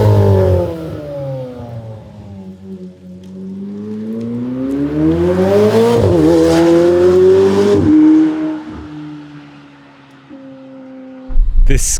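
A yellow McLaren approaches on a Swiss road and passes close by, the engine note rising into a loud revving sweep as it goes past, then fading away, followed by a brief burst of noise at the very end.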